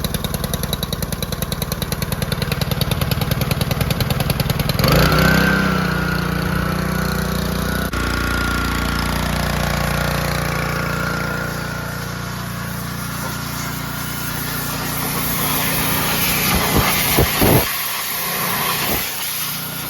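Pontiac Tempest engine running after the choke is turned off, a steady, fairly loud mechanical drone that shifts and settles in tone partway through and carries on without talk.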